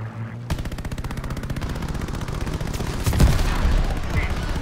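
Rapid aircraft machine-gun fire in the Call of Duty: Vanguard campaign, a loud continuous stream of shots with heavier booming hits near the end, mixed with engine and battle noise.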